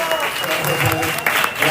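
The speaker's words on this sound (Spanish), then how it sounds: "Y ahora sí, aplausos para Walter." Brief burst of crowd applause at a festival evening event, dense steady clapping with voices mixed in, filling the space for under two seconds.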